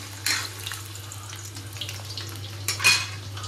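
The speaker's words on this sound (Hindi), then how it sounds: "आलू ऑलमोस्ट फ्राई हो गए, इस तरह से मैंने हल्का सा फ्राई कर दिया" Potatoes frying lightly in a pan over high flame make a steady soft sizzle, with a couple of brief louder bursts of crackle or stirring, close and without talk.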